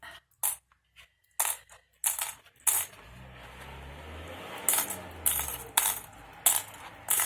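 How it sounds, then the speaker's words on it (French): Clips are pulled off a glued paper craft folio one after another, giving a quiet series of sharp clicks and small metallic clatters with pauses in between. Nobody speaks. "maintenant, on peut enlever les pinces ici quand c'est bien collé"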